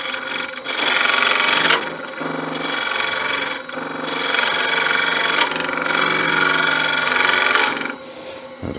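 A wood lathe drones loudly and continuously while a detail gouge cuts into a Balinese teak chalice. The cutting sound swells in long passes and drops away briefly between them, close up with no speech.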